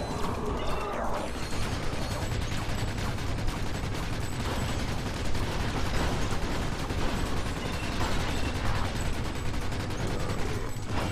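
Rapid weapon fire from the video game Ratchet, a dense continuous barrage of shots and mechanical clatter with repeated bursts over a steady busy game soundscape, loud throughout with no pause.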